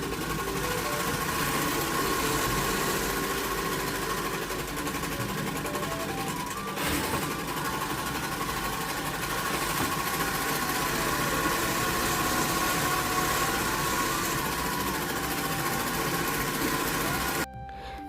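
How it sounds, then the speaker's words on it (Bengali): An overlock sewing machine stitches the edges of cut fabric pieces, its steady, close mechanical whir running loud and unbroken for most of the stretch before stopping abruptly near the end. "তো যতগুলো পিস হয় এখানে সবগুলোরও ইন্টারলকটা আমি করে দিচ্ছি"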